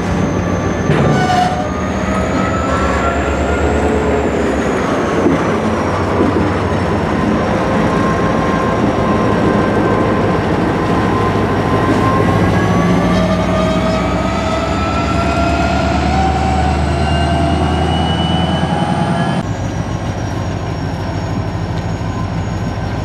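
A CSX freight train switches cars on an industrial spur serving a large customer in Miami's East Rail area, with a loud, steady rumble, rising and falling metallic wheel squeal and screeching throughout, close by and without talk.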